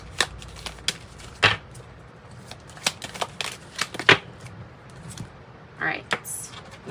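A tarot card deck is shuffled in a series of crisp riffles and slaps, close and fairly quiet, with short pauses between bursts and no speech.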